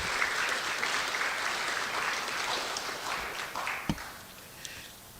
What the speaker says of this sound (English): Let's give the presenters another round of applause.